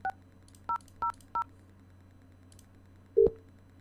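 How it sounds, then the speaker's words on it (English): Four short DTMF keypad tones are dialed in quick succession on a 3CX softphone, followed by a louder, longer tone after a brief pause, with a faint steady hum beneath. "So I'm now going to go over to the dialer, and I'm going to dial 6000."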